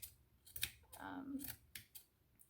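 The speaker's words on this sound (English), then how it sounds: "So I'm just going to trim it a lot around these sides here, so it looks longer rather than wider." Scissors snipping at the trunk of a faux succulent cactus, a few quick close cuts spaced through a quiet moment with faint background.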